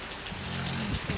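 Rain falling outdoors near gardens, a dense, steady hiss of drops hitting surfaces, close and fairly loud, with a low rumble underneath.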